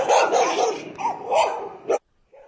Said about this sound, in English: was greeted by barking dogs that nearly scared the piss out of me